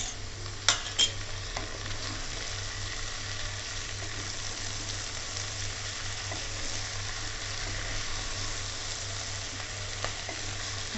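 Green chilies and tomatoes fry in a pan with a steady sizzle, and an occasional stir or clink of a utensil sounds close by.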